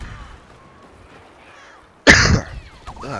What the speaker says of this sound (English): Sorry about the coughing, guys.